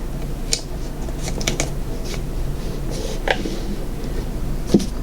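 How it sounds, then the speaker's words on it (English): Blue painter's tape being pulled off the roll and pressed in place beneath a resin cylinder mould, a few sharp, close ripping and crackling bursts separated by quiet gaps. "I'm gonna still take a piece of blue painter's tape"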